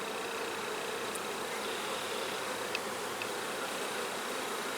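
Honey bees swarm around an open hive, a steady dense buzzing hum that stays even and close for the whole stretch, with a few faint higher whines from individual bees passing by.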